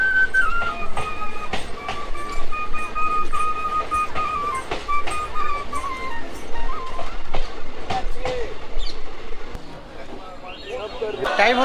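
Maa Tara Express passenger train pulling out of Bardhaman station, with steady rolling rumble, rhythmic wheel clatter and brief high squeals, while voices murmur nearby in the carriage.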